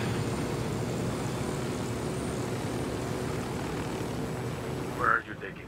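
Steady whirring rotor and engine drone from a helicopter in the video game Ghost Recon Wildlands runs throughout, with a brief higher swell near the end as it cuts off.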